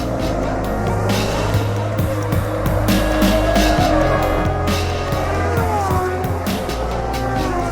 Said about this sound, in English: cars make their way round the formation lap and try to warm their tyres and brakes for the start